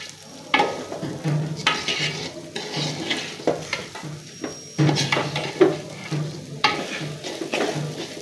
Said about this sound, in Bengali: আর ঘন ঘন নাড়াচাড়া করে দিচ্ছি